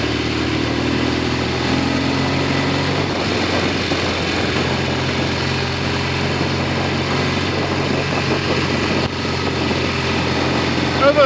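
A Norton Commando 750 motorcycle on Amal carburettors runs close by with a steady, throbbing idle and a slight rise in revs partway through. A voice talks over it.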